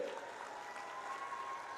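Crowd applauding steadily at a BJP election rally in Jharkhand, a dense, even wash of clapping held throughout, fairly distant and moderately quiet, with no clear voices on top.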